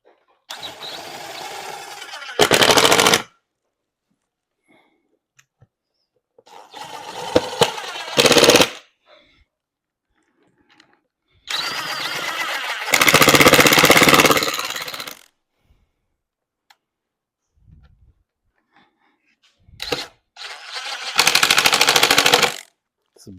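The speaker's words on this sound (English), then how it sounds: "It's the best thing, impact driver." An impact driver runs screws into a used wooden dining table in four loud, rapid hammering bursts of a few seconds each, with quiet gaps between them and some brief talk in those gaps.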